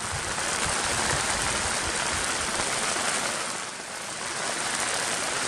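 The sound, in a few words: rain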